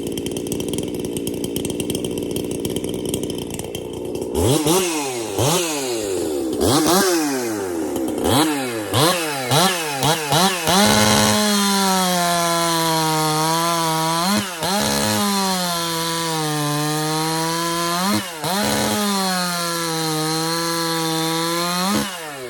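A Husqvarna 346XP conversion chainsaw starts, revs hard in short bursts, then bogs into a long, loud, steady cut through wood, its pitch dipping and rising as it bites and clears.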